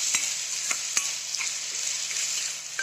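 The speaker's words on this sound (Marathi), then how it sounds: "कांदा गोल्डन कलरवर चांगला भाजला जातो" Continuous hissing sizzle of onions frying in oil, punctuated by several crisp ticks and spatters as the pan is stirred.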